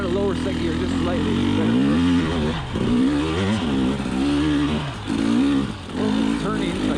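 A 2020 KTM 300xc TPI two-stroke enduro motorcycle engine revs hard climbing uphill in second gear, loud and close with rising and falling pitch and brief throttle dips.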